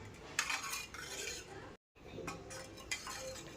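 A metal spoon stirring amti curry in a pot, with soft scraping and light clinks against the side, quiet and close, broken by a brief silence.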